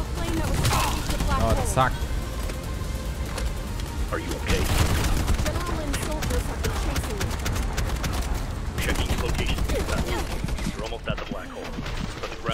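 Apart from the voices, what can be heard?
heavy gunfire in the video game Bright Memory Infinite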